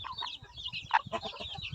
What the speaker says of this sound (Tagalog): papakita ko lang sa inyo itong ilahas, wild chicken ba